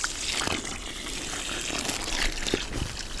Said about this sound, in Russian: набираем воды в яму